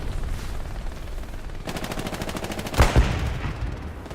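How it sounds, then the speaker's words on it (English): Distant machine-gun fire crackles in the Hell Let Loose battlefield, a steady rapid burst rattling for a couple of seconds, followed by two heavier nearby booms over continuous combat ambience. "we gotta kill the machine gunner towards the warehouse on my thing"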